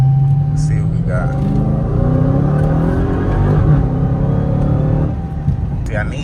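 A Dodge Hellcat on 24-inch wheels accelerates, its engine roaring loudly from inside the car as the pitch climbs steadily through a gear before easing off, with some talk mixed in.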